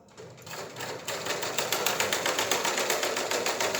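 A sewing machine stitching puff sleeves runs with a fast, even mechanical rattle that starts up and holds a steady rhythm, loud and close, with no voices.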